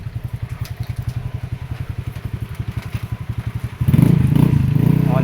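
A motorcycle with a Zeus Apollo v3 exhaust idles in a loud, steady, thumping rhythm up close, then revs sharply into a louder, rising roar near the end.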